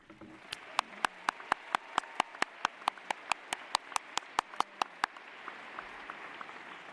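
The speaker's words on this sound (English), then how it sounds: "we'd like to give a round of applause to all of our 8th graders right now" Steady, evenly spaced claps ring out about three times a second for the 8th graders at a middle school closing ceremony, sharp and close, thinning to a soft murmur of room noise at the end.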